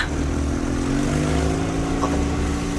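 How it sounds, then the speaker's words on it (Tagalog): An engine drones steadily at mid distance, a motorcycle approaching with a faintly rising note, heard alone without voices. "may nagsingabot nga motor."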